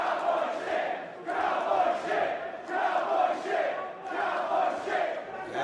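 Wrestling arena crowd at a mixed tag match chanting for James Storm, rising and falling in a steady repeated rhythm of about five loud swells.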